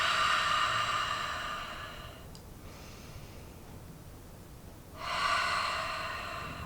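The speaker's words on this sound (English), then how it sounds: "Big breath in, big breath out." Slow deep breaths in and out during a chair yoga session, a long breathy exhale near the start, a quiet pause, then another audible breath swelling up near the end, close to the microphone with no talking.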